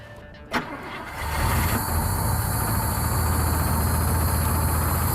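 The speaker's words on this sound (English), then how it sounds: "First key turn, runs." Old station wagon engine cranking and catching on the first key turn, a short starter whir followed by the engine settling into a steady, loud idle that continues to the end.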